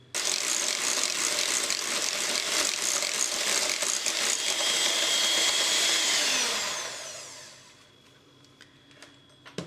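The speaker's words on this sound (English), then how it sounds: "just beat your cream or your evaporated milk until it's doubled in bulk" An electric mixer beats cream or evaporated milk into a custard for chocolate ice cream, a loud steady whirring buzz that runs for several seconds, then slows and winds down, followed by a few small clicks.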